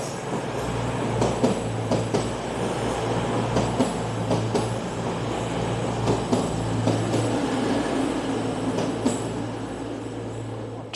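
A four-coach train stands at the platform of a station, bound for Falmouth Docks. A steady low engine drone and hum carry on under clattering and metallic knocks for about eleven seconds, with no talk.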